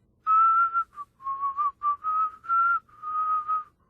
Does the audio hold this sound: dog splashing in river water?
no